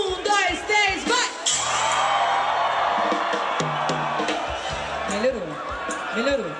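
Live show audience in Brazil yelling together on a countdown cue from the stage, a loud sustained crowd shout with whoops and cheers filling the space, while the host's amplified voice speaks over it at the start and end.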